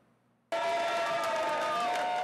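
Supporters cheering and applauding as Peter Pellegrini, newly elected president of Slovakia, makes his entrance, a sudden loud wall of crowd noise that starts after a short quiet moment and holds steady.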